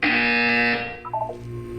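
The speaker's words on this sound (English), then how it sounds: "You will hear a buzzer." A loud electronic buzzer in the Portal 2 video game blares as one sustained harsh tone for most of a second, then cuts off, followed by a few brief softer electronic blips.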